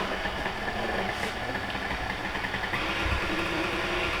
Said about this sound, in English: Make sure we lock down the head on the KitchenAid. Put it on low speed for now.